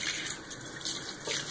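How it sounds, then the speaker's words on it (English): Warm water runs steadily from a sink faucet onto a cleaning sponge, a continuous splashing hiss lasting the whole moment, close and clear with no talking. "I'm going to wet my sponge with some warm water."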